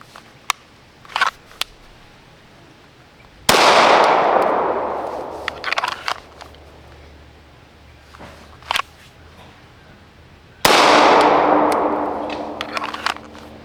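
Two loud, sharp shots from a Wilson SFX9 pistol, each followed by a long echoing decay, with faint clicks and handling noises in the quieter stretches between them.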